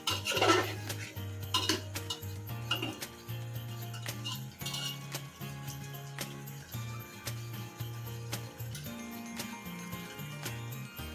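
Mutton bhuna masala stirred in a pressure cooker pot, with a spoon clinking and scraping against the metal in irregular taps while faint background music plays underneath.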